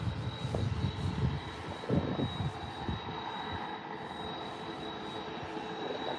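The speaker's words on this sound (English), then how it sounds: "It was a decent landing for the EasyJet" An easyJet airliner landing at Birmingham airport, heard as a broad, rumbling jet engine roar at a distance, louder in the first seconds and then settling into a steady, fainter hum with a thin high whine.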